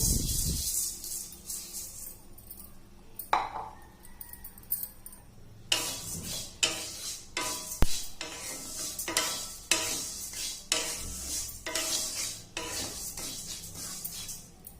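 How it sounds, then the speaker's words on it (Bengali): Moong dal dry-frying in a heated kadai and stirred with a utensil: repeated scraping and clinking strokes against the pan in an uneven rhythm, close and fairly clear over a faint sizzle, with no talking. "ডাউলটা ভালোভাবে ভাজা হয়ে গেছে"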